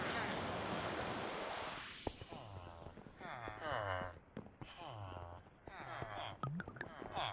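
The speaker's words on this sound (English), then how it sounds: "Alright, let's do the rain." Rain in the video game Minecraft hisses steadily at first, then gives way to a series of short squeaky villager-like calls and clicks with a softer rain wash beneath.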